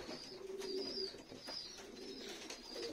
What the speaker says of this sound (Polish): a tutaj jest pana gołąbek, ale już siedzi na sztucznych jajkach